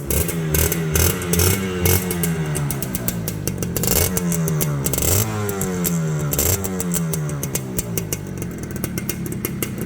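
A 1990s Akira 110cc six-speed two-stroke motorcycle revs hard and close, its engine note climbing and dropping repeatedly in sharp bursts over a steady idle, loud and alone with no talking.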